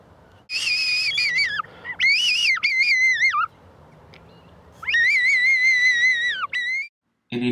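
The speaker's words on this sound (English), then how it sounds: "Whistling foxes is not only effective for open areas, it can also be used to call foxes out of thick scrub." Loud, clear whistled calls used to lure foxes out of thick scrub in a suburban setting, in three long bursts of rising and falling tones with short gaps, heard alone without talk.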